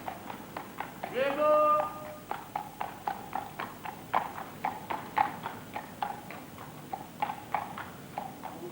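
Hooves of a rag and bone man's horse pulling a cart clip-clop along a street in a steady, fairly close rhythm, with a brief voice calling out near the start.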